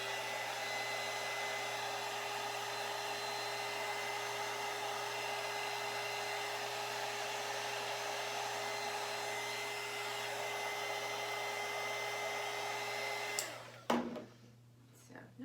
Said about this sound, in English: I just take my heat gun and I just melt the wax just a tiny bit on the top